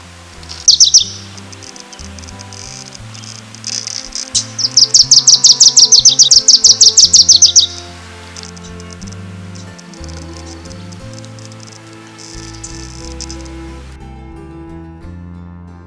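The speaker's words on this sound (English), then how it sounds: "Oh, there's the warbler." A small warbler sings nearby on Vancouver Island near dusk, a quick chirp followed by a rapid trilling run of high notes, over soft background music.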